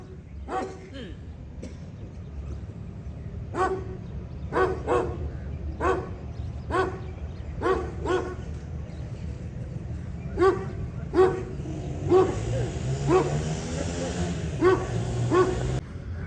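Four bully-breed dogs, just let loose outdoors, bark in repeated sharp bursts with a few yips and whimpers, fairly close, over a low background rumble.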